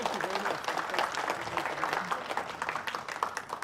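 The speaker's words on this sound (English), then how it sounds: "please give him big hands and long clap for him" Sustained applause from the audience at a security workshop, steady dense clapping throughout with a voice speaking over it.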